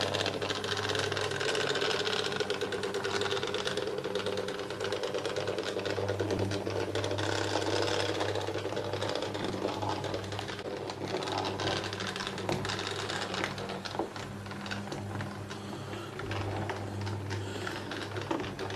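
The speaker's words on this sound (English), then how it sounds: "coming up from the docks and the coal mine is the coal train heading for the London end" An O gauge model coal train runs on a layout with a continuous whirring motor hum and fast clattering wheel rhythm, steady and close throughout with no talking.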